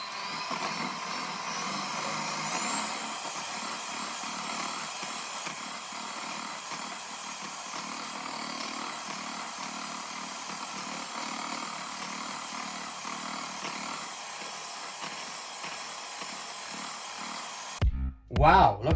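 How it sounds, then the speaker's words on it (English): An electric whisk beats egg whites and sugar into a stiff-peaked meringue, its motor a steady, unbroken whir for most of the stretch before cutting off abruptly near the end. "So let's get whisking."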